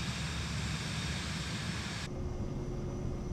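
Steady, loud jet engine roar from the FlightFX Vision Jet G2 in Microsoft Flight Simulator 2020, a broad continuous rumble whose bright hiss abruptly dulls partway through.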